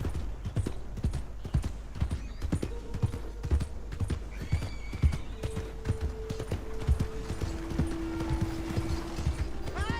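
Steady clip-clop of hooves plods along for several seconds while a horse whinnies intermittently, with faint tonal game sounds in the background, in Red Dead Redemption 2.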